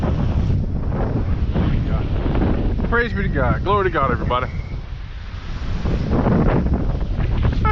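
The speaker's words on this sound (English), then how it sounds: "it's kind of windy." Strong wind buffets the microphone beside a lake while bass fishing from the bank, a steady roaring rush throughout with someone speaking briefly over it.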